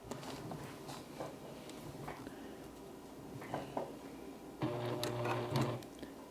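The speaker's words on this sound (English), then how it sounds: "So now I'm going to go ahead and start stitching it out." A Juki Haruka TL-18QVP sewing machine stitching a patch, heard as slow, deliberate mechanical stitching with soft rhythmic clicks that swells into a louder, faster run near the end.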